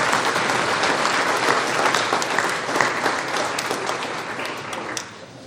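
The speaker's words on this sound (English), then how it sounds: "If we give them a round of applause." A banquet crowd at an annual farmers' achievement awards dinner gives a dense, steady round of applause that carries on for several seconds, then drops away abruptly at the end.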